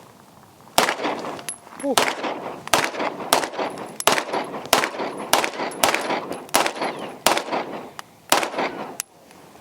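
A Staccato pistol fitted with a Parker Mountain Machine compensator fires a rapid string of about a dozen loud, sharp outdoor shots in quick succession, with a brief exclamation from a bystander between shots.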